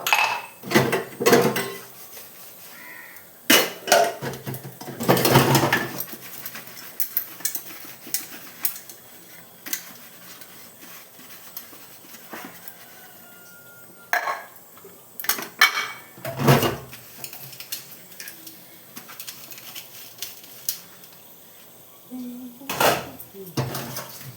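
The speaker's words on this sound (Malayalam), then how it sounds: "ഒരു പാത്രം കഴിയില്ല അടുത്ത പാത്രം എടുക്കുക ആ പാത്രം വയ്ക്കുക അടുത്ത പാത്രം എടുക്കുക" Metal kitchen vessels being picked up and set down in a home kitchen, a series of irregular clanks and knocks in bursts with quiet gaps between.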